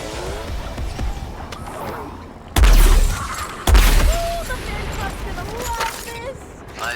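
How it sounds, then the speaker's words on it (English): Gunfire and explosions from the video game Suicide Squad: Kill the Justice League, with two heavy booming blasts a second apart over a busy bed of shots, whooshes and in-game voices. "I am shooting enemies, collecting a ridiculous array of guns, and using the occasional super move"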